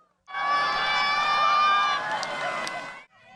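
Spectators watching the Nuri rocket launch from about 15 km away break into a sustained burst of loud cheering and shouting that swells for nearly three seconds, then stops abruptly.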